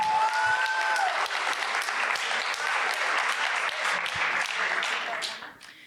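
An audience applauds a speaker, a sustained dense clapping that holds steady for several seconds before fading out at the end.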